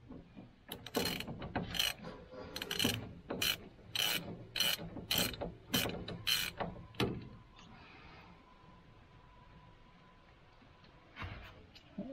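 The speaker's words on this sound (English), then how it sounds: "We will need to take this off a 7/16 socket." Ratchet wrench with a 7/16 socket removing a bolt from a three-speed column shifter, rapid clicking bursts for about seven seconds, close and fairly quiet, followed by a quieter pause.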